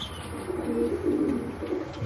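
Pigeons cooing softly inside a racing-pigeon loft, a short low burbling coo repeated under a quiet, hissy background.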